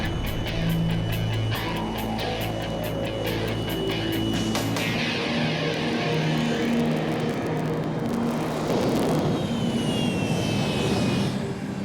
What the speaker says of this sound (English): the cab will take its chances, running the gauntlet through the jet wash